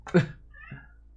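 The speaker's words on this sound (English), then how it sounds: "And my cat is crying, of course." A house cat crying for a treat lets out a short, close meow followed by a softer, shorter second call, then quiet.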